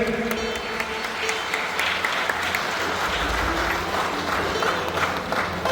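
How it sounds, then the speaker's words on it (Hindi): An audience at a track maintainers' railway employees' union conference in Alipurduar Junction claps loudly to welcome an honoured guest, a dense, sustained roar of hands lasting the whole stretch. "सभी से अनुरोध है जोरदार हाथ ताली के साथ सर का स्वागत करें।"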